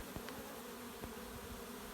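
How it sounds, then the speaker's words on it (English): Steady, faint buzzing of many honeybees flying around a hive, a continuous low hum with occasional closer passes. "So a whole bunch of young bees going out and finding their way back in"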